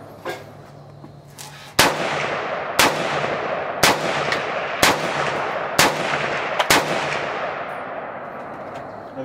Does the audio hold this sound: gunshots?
yes